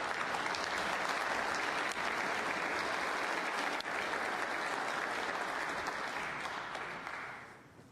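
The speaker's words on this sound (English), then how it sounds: "that applause you heard was for Elliot Slesser, who has just beaten Long Zhuang on table 3 by 4 frames to 2" Applause at a snooker tournament venue in Northern Ireland drifts over from another table, a steady wash of distant crowd clapping that fades away at the end.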